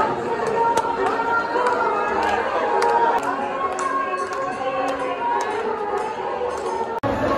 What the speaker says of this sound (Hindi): इतनी ज़्यादा भीड़ है, इतनी ज़्यादा भीड़। आज आखिरी दिन है इस मेले का,